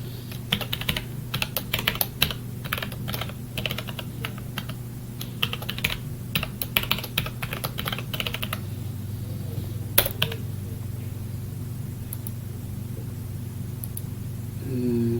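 Rapid keystrokes on a computer keyboard as a password is entered during a Parrot Linux install, dense clicking for about eight seconds before tapering to a few isolated presses over a steady background hum.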